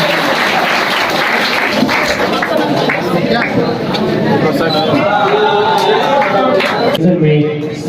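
Sustained audience applause fills a coaching class prize ceremony, a dense, loud clatter of clapping hands that continues for about eight seconds with a murmur of voices underneath.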